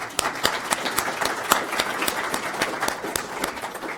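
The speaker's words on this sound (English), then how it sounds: "Paul, I think everybody should give a round of applause for Paul." An audience claps for Paul Gedge at a training workshop, a steady patter of many hands close by that holds an even level throughout, with no voices over it.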